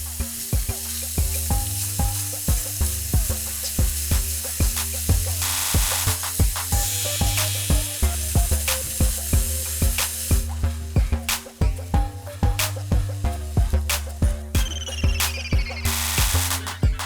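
Chopped food sizzles and fries steadily in a pan, a continuous crackling hiss at close range, broken by repeated rhythmic scrapes and clinks of stirring, with no talking.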